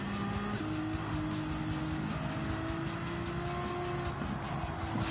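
Race car engine droning steadily through laps of the Spa circuit in a video game, with gear shifts changing the pitch and a constant close roar.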